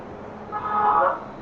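A single car horn toots briefly at a moderate distance over a steady wash of street traffic noise.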